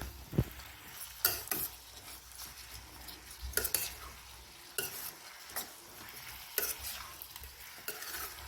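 Green chillies fry in oil for a cauliflower curry, making a soft, steady sizzle with frequent clinks and scrapes of a spoon stirring against the pan.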